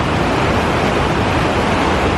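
Waterfall at Greenfield Lake Park in Wilmington, North Carolina, heard as a steady, dense rush of falling water filling the whole clip, close and fairly loud with no voices.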